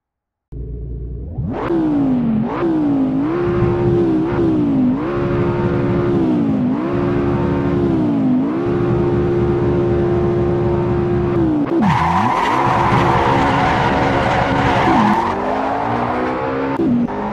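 GT race cars at the Nürburgring GP circuit in the Assetto Corsa racing game roar loudly and continuously, engines revving up and shifting through gears, then tires squeal and skid sharply near the end.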